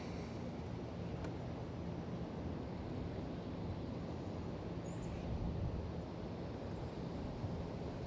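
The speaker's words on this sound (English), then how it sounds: "it's super windy today" Steady, heavy wind buffeting the microphone outdoors, a continuous low rumbling roar with no pauses.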